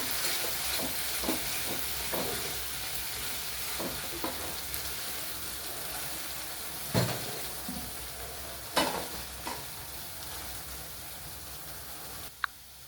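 Spice paste for a coriander katla fish curry frying with ground coriander leaf paste, a steady close sizzle broken by scattered stirring scrapes and clinks.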